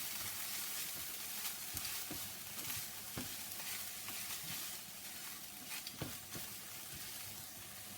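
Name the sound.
stirring chicken korma frying in a pan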